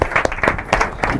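Audience applause welcomes the lead speaker at an inter-collegiate debate competition. The clapping is loud and close, with irregular bursts over about a second.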